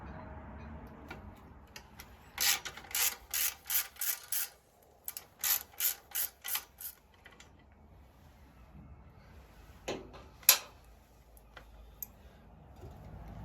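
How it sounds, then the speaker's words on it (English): Ratchet turning a bolt out of a Honda CRF 300 L motorcycle, two bursts of quick rhythmic clicking, about eight clicks each, then a few sharp metallic knocks, close and fairly quiet. "next we have this bolt here that needs to come out"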